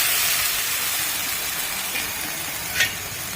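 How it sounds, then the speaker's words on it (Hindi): Red chillies and fenugreek seeds sizzling in hot oil for a tempering, a steady dense hiss throughout with a brief sharper crackle near the end, no voices. "लाल मिर्ची में हम इसमें छौंका लगाएंगे।"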